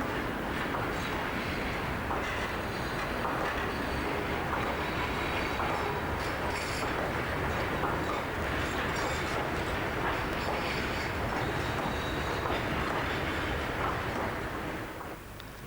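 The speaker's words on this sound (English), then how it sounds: "Followed by a scrap train to Cardiff." A scrap freight train rolls past at steady volume, a dense continuous rumble with metallic clatter and occasional squeal, fading slightly at the very end.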